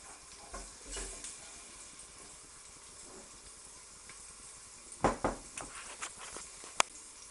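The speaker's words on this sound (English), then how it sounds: "I'm going to sizzle that for about 30 seconds." Garlic sizzles in hot oil with a soft crackling hiss, punctuated by sharper pops and a few stirring scrapes near the end.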